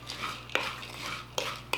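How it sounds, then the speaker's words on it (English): A hash brown mixture is stirred in a bowl, a few sharp spoon clinks against the side over a soft, close scraping and swishing, brief and fairly quiet with no talking. "And then we're just going to give a good stir."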